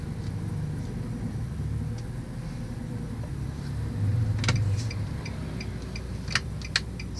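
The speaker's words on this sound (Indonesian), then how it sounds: "saya harus pindahin mobil terlebih dahulu" A car being moved in a parking lot: a low, steady engine rumble with a brief swell mid-clip, followed by a few sharp ticks and clicks near the end.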